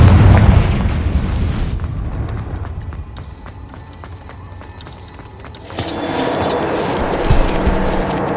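Confringo spell explosion in the video game Hogwarts Legacy, a loud booming blast at the start that fades into quieter rumble and footsteps, followed by another burst of noise near the end.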